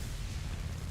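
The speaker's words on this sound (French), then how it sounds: "Là, il a explosé déjà." A deep, rumbling explosion from the combat video game War Thunder fills a short burst, with a heavy low-end boom and no voices.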